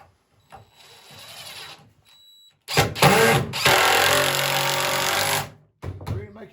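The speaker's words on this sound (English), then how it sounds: "Then put a screw down in here." A power driver sinks a screw into a wooden brace on a swing built from sawmill lumber, with a short whir, a pause, then a sustained loud grinding buzz of about three seconds before stopping, close and without speech.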